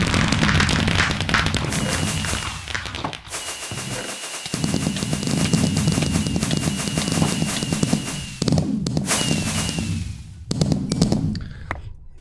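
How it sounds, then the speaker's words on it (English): Fireworks show in a modded video game: a dense run of crackling pops and thumps bursting almost continuously for about twelve seconds, with brief lulls, loud and close, and no talk. "Fireworks show!"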